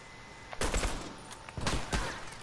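A few quick gunshot bursts ring out in The Last of Us Remastered, two distinct clusters of sharp cracks about a second apart, moderately loud over quiet background.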